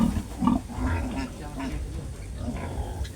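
A native sow grunts repeatedly in a farm pen, with low, rough snorts coming in short bursts close by, while a person talks over them.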